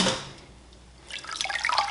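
Water drips and trickles back into a dye bath as a soaked yarn cake dyed yellow and pink is lifted out, a quiet pause followed by a louder run of splashing drips.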